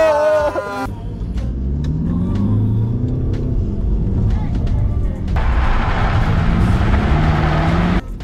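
A car engine rumbles and revs up and down continuously, rising and falling in pitch as the car drives hard through a cone slalom test on Hankook Ventus S2 AS or Kumho Majesty 9 tires.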